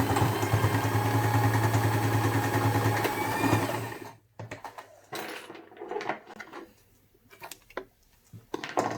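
A sewing machine runs steadily for about four seconds while backstitching the lining of a beginner's double pencil case with two zippers, then stops, leaving scattered handling clicks and rustles of fabric.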